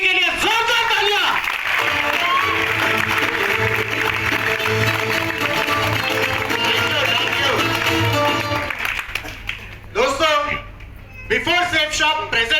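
Audience applauding at a company gathering, a sustained roar of clapping and crowd noise under a loudspeaker voice and music, fading out after about nine seconds as someone speaks on.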